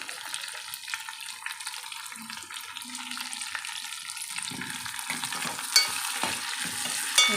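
Cumin seeds frying in a pan for tomato chutney give a steady close sizzle, with spoon scrapes and stirring clatter growing toward the end.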